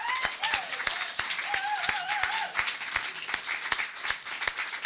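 Audience clapping after a pitch at an evening pitch event, a steady dense patter of many hands with sharp individual claps standing out, while someone talks over it with a rising, animated voice.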